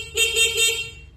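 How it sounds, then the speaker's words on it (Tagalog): A car's stock horn gives a short honk, a steady bright tone lasting about a second with slight pulsing, loud and close, with no talk over it. "Ito po yung kanyang stock horn."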